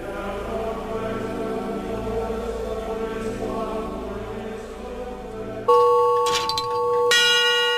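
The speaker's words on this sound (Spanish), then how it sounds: "indicaban la hora mediante el sonido de unas campanillas" Mechanical clock bells ring out in a sustained, resonant chime, then a brighter, clearer peal of bell strikes rings loudly near the end.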